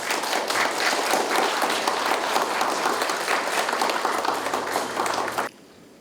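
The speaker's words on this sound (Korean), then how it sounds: "마지막 박수 좀 부탁드리겠습니다." Audience applause fills the hall at the opening ceremony of a Korean public administration association's special mega seminar. Steady, dense clapping from a large crowd continues for about five and a half seconds, then cuts off abruptly.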